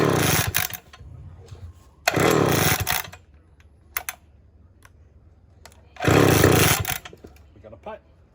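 A vintage Homelite 360 chainsaw with the choke on is pulled over and sputters in three loud, ragged bursts that die away each time, separated by quieter gaps with a few short clatters and some nearby talking.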